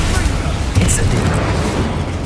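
A fire spell cast in Hogwarts Legacy, with a loud rumbling whoosh and crackling burst that fills the moment, sustained and dense throughout.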